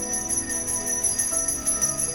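A Salvation Army hand bell rung at a holiday donation kettle, a steady stream of bright metallic rings with shimmering high overtones repeating continuously, fairly close and heard alone.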